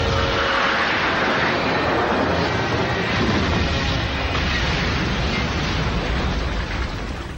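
MiG-29 jet firing on and shooting down a helicopter over the North Pole in an animated series: a loud, continuous roaring rumble of engine and blasts that holds steady throughout.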